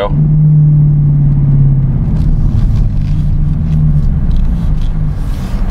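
A car engine revs sharply as the driver downshifts with paddle shifters in sport mode, a loud close rumble with rising and falling pitch, heard alone without talk.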